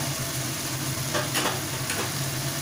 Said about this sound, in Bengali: এবার ভালোভাবে একটু মশলাটাকে কষিয়ে নেবো